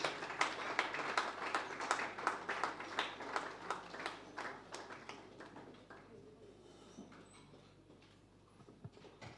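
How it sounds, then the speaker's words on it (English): A conference audience claps steadily, the applause fading toward the end and leaving a quieter room. "Please let's give her a round of applause as she comes up on stage."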